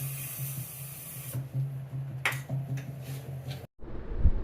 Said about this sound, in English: You can shoot your spray paint into the cap or into a cup